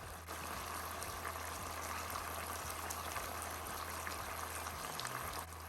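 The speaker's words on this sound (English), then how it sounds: "Don't you just love the sound of that sizzle?" Steady, loud hiss of chicken teriyaki sizzling in a hot pan, continuous and crackling throughout, with a low hum underneath and no voices.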